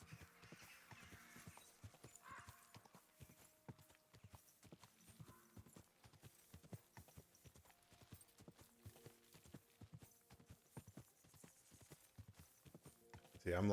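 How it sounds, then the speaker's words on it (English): Rhythmic clip-clop of a horse's hooves in a video game, a steady trotting beat of crisp thuds continuing throughout at moderate distance, with faint ambient game sounds behind. "The horse is getting some exercise today."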